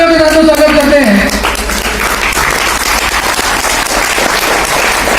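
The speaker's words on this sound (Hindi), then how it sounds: "एक बार खड़े होकर जोरदार तालियों के साथ स्वागत करते हैं" A standing audience at a motivational event in Varanasi breaks into loud, vigorous applause that fills the room, beginning under a speaking voice and continuing strongly to the end.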